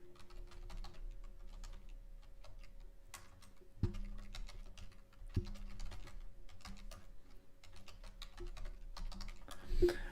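Steady typing on a computer keyboard, close and moderately loud, with irregular bursts of key clicks and a few heavier strokes, no speech.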